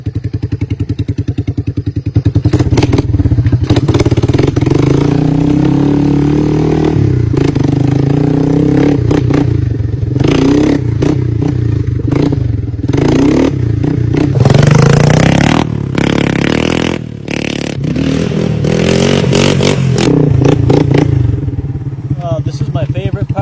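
Close and loud, a Yamaha three-wheeler engine with no muffler runs with a rapid, raw, clattering exhaust beat and occasional revs, with a voice talking over it at times.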